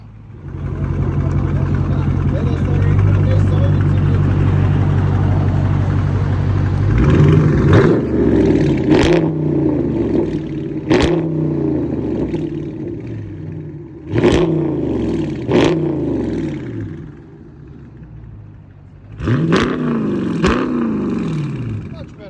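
A 2021 Dodge Charger Daytona 6.4 liter V8, straight-piped with 5-inch tips, holds a heavy, loud idle rumble, then fires a series of short, sharp revs in quick clusters, close to the listener.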